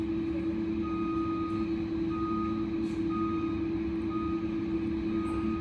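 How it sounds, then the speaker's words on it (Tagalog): Construction truck backing up at an excavation dig site, a regular series of evenly spaced reversing beeps over a constant loud engine drone, with a faint higher whine and no talk. "Tignan mo, pag hukay niya, may dadating na truck."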